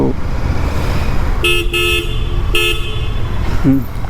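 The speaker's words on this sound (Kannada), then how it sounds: "ಹಾರನ್ ಲೌಡಾಗಿದೆ." The horn of a Royal Enfield GT 650 motorcycle honks twice, two short loud blasts about a second apart, over steady engine and road noise.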